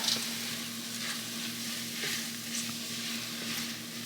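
Spinach sizzles and crackles in a pan while cooking down for a one-pan creamy Tuscan ravioli, a dense steady frying hiss with soft stirring scrapes, close and fairly loud, without any talk.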